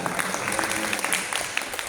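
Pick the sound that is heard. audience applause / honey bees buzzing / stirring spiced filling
audience applause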